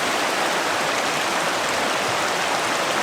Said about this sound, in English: I came to like this little waterfall